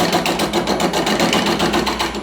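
A gouge cuts an out-of-round wooden bowl spinning on a wood lathe. The hum and scrape are loud and continuous, with a fast, regular bumping pulse from the uneven surface.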